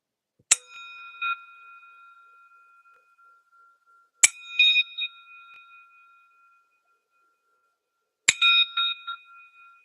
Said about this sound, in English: That bell sound may not have conveyed very well through the technology